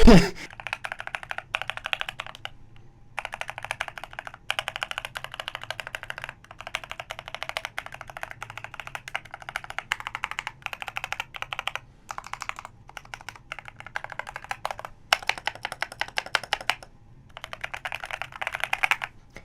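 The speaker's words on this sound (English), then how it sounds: "My custom keyboard that took quite some time to build." Steady typing on a mechanical keyboard, with quick clacky keystrokes in bursts and brief pauses, close up and fairly loud.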